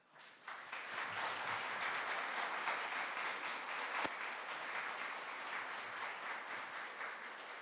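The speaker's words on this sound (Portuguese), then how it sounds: "Vamos receber com uma grande salva de palmas José Vicente." An audience at a Spiritist lecture applauds to welcome the speaker, a steady wash of many hands clapping that swells quickly and holds at an even level for the whole stretch.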